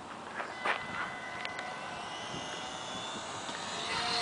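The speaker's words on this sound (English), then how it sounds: "I'm about to fly this Corsair for the first time." A model Corsair airplane flies at a distance, its engine a faint, steady drone over outdoor background noise.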